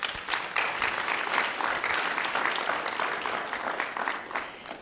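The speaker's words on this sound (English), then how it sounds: "Let's start by giving a big round of applause to each of the teams that pitched today." Steady audience applause at an early-career pitch competition, cheering the pitching teams, holding at an even level for several seconds before tapering slightly.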